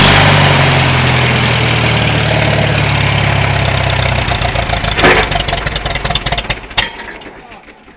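A Farmall M tractor engine chugging loudly just after a cold start, a steady rough idle that sputters and fades toward the end, with someone speaking over it.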